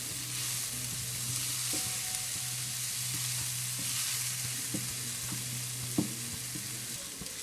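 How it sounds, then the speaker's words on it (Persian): Chopped eggplant insides being sautéed in a pan, a steady close sizzle with a low hum beneath and a few sharp utensil taps as the pieces are stirred. "حالا قسمت های داخلی بادمجون رو که خورد کردم اضافه میکنم و کمی تفت میدم"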